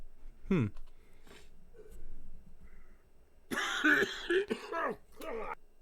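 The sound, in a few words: throat clearing and cough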